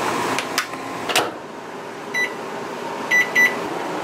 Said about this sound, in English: Microwave works,